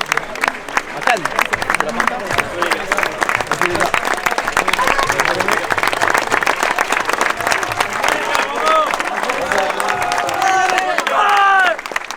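Loud crowd applause and cheering from supporters greeting a football team on cup day, continuous dense clapping mixed with shouting voices and chatter nearby.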